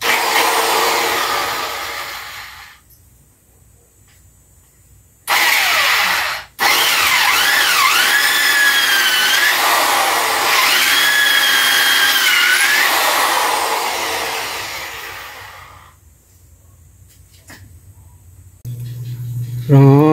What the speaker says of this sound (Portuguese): Então vou furar aqui, ó.